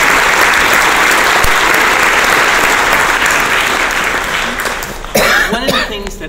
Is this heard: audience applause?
yes